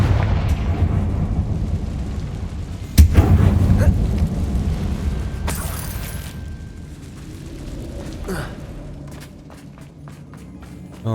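A Confringo fire spell blasts in Hogwarts Legacy: one sudden loud explosive burst lands about three seconds in, then rumbles and decays over steady game ambience and low rumble.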